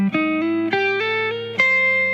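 A short bluesy guitar lick of about six sustained single notes stepping through the phrase, each ringing clearly with a slightly gritty tone, played alone.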